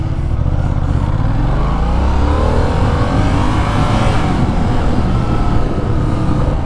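A motorcycle accelerates hard along twisty roads, its engine revving up steadily and continuously, loud and close throughout with wind rush and no talk.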